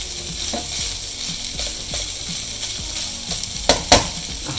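Squid fries in a pan with roasted coconut, a continuous sizzle under repeated scraping strokes of stirring, close and fairly loud, with a couple of sharper knocks near the end.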